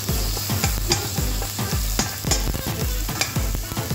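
Onions, garlic and chicken patties with skin fry in a pan, with a steady loud sizzle and repeated scraping stirs close by at an even rhythm, and no voices.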